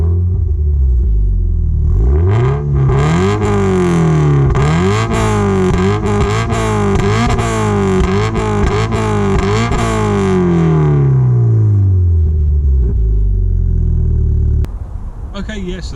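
A Toyota GT86 fitted with a Cobra exhaust system revs repeatedly, loud and close, its deep raspy exhaust note rising and falling across several throttle blips before settling back to idle.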